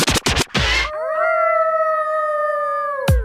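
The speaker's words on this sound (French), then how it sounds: "Joe Laflamme réussit à dompter des loups sauvages" Tamed wild wolves kept by a northern Ontario strongman, a long steady howl following a few short yips and scratching noises, the single wavering note held clearly for about two seconds before cutting off.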